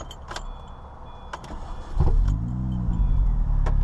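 Keys jangle and click before a car engine cranks and catches about halfway through, settling into a steady close idle rumble with no talk.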